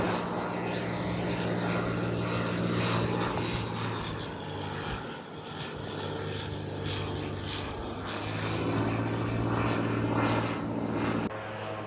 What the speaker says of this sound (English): You can hear the planes behind me now